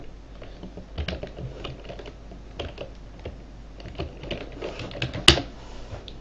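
Typing on a computer keyboard, a steady run of quiet, close key clicks with one sharper tap near the end, and no voices.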